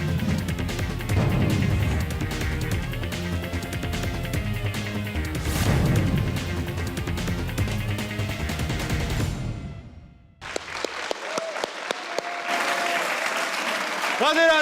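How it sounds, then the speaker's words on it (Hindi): Studio audience applauds on a Hindi comedy talk show, steady loud clapping for about ten seconds before a sudden cut to a sparser burst of claps and crowd noise. "सही अब्बास के लिए एक बार तालियां।"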